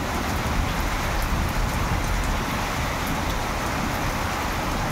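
Heavy rain during a storm in Bhubaneswar, a loud, dense, steady roar of falling water that continues unbroken and close, with no voices.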